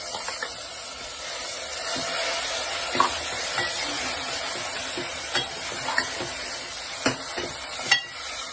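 A ground masala paste for a Kolhapuri tambda-pandhra rassa sautés in a pan after a splash of water, a steady close sizzle broken by occasional scraping stirs and clinks of the spoon against the pan.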